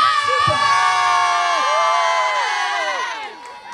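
Children cheer and shout together in a loud, high-pitched burst at an avondvierdaagse parade. The voices hold steady, then fade out over the final second.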